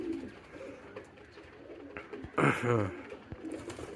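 Pigeons coo softly in the background, with a louder burst of cooing and fluttering calls close by midway through.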